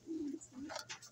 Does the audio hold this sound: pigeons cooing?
yes